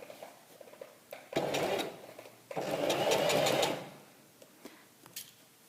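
A sewing machine stitches a pencil skirt seam close to the fabric edge in two steady bursts, a short run and then a longer one, near and fairly loud, with quiet pauses between.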